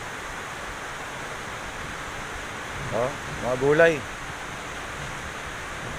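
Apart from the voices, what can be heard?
heavy rain and rushing water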